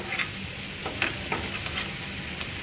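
Backwater clams cook dry without water in a pan over a high gas flame, Agri style, giving a steady near sizzle and hiss with a few sharp stirring clicks; no one speaks.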